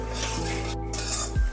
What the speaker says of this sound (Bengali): ফোড়নকে ভেজে নিচ্ছি।